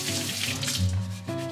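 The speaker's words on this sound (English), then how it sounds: "take 9 normal sized potatoes and wash them under cold water." Cold tap water runs over nine potatoes being washed, a steady close splashing rush with a brief shift in flow partway through, under low background music.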